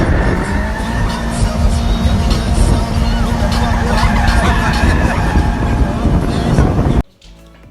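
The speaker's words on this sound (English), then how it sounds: "we took it out and we did donuts in like a Target parking lot" A Mazda Miata skids through donuts in a Target parking lot, tires squealing and engine revving loudly and continuously for about seven seconds before cutting off abruptly.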